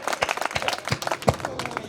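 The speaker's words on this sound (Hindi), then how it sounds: "ढंग से ताली बजाओ तो अपन आगे बढ़े।" Audience at an outdoor Hindi poetry gathering clapping together: dense, steady rhythmic applause from a crowd, fairly loud and continuous with regular accented beats.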